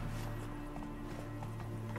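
In The Witcher 3 video game, a horse gallops with a steady, rapid clip-clop of hooves under a constant low droning game ambience, with no talk.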